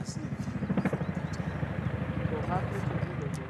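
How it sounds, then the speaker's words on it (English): A helicopter's rotor thuds in a fast, pulsing rhythm close overhead, loud and continuous with a heavy rushing drone. "By now, the helicopter was overhead, making a huge wind."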